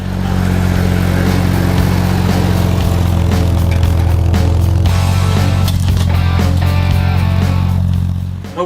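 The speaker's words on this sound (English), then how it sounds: "we're basically using our cultivator to dig up the roots and some of the smaller stumps that are left behind" A garden cultivator engine churns through weedy ground, digging up roots and small leftover stumps; a loud, steady low motor drone with clattering runs throughout the clip.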